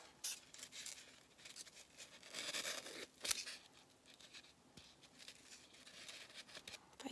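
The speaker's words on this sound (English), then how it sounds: "I'm going to just cut the plastic" Scissors snip and rasp through plastic in a series of close, scratchy cuts, fairly quiet with no talking.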